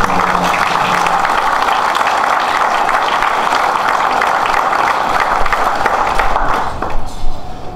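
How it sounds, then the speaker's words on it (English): Loud, sustained applause from an audience at an emergency responders awards dinner honoring an award recipient, a dense wash of clapping that tapers off near the end. "everyone in here should give him a round of applause"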